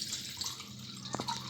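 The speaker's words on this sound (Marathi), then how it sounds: "जवळपास 150 ml पाणी मी घालते." Water is poured into a pot while herbal tea is made in a kitchen, heard as a faint, steady trickling wash with a couple of soft splashy drips near the end.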